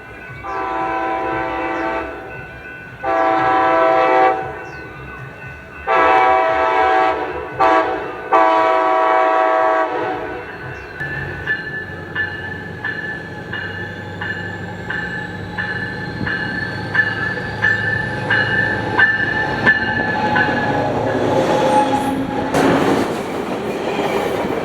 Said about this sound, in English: Our next train would be Coaster 683 with SC44 Charger 5005 leading.